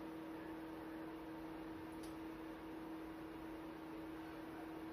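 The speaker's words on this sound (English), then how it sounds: "The fan's definitely going now, you can hear that" Cooling fan of a Victron Phoenix 12V to 240V inverter running, a faint steady whir with a constant electrical hum beneath it, no voices.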